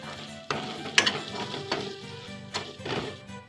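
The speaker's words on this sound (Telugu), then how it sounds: "యాలకలు చెక్క లవంగాలు వేగినాయండి" Cardamom, cinnamon and cloves fry in a pan, a soft crackling sizzle with a few sharper pops and stirring scrapes, close and steady with no talk.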